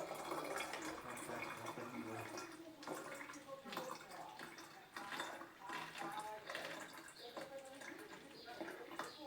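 Half a litre more water is poured into a bottle, a steady splashing trickle that runs throughout, with a voice talking over it.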